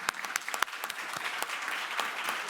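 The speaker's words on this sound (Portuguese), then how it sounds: "salva de palmas" A room of journalists at a breakfast in the Planalto palace claps for the president's birthday, a crisp scattered round of many hands with some sharp individual claps standing out, moderately loud with no talk.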